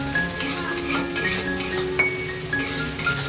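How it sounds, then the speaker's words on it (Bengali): Spice paste (masala) for a Bengali mutton curry being stirred in a pan, with steady close scraping and clinking of a utensil against metal over a soft sizzle, repeated strokes throughout and no talking. "ভালো করে নাড়িয়ে নেব মশলাটা"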